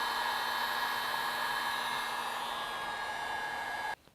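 A heat gun blows steadily to shrink all-in-one heat-shrink solder connectors during wiring of a rear view mirror upgrade in a Nissan truck, giving a loud, even, close hiss with a faint whine that cuts off abruptly near the end.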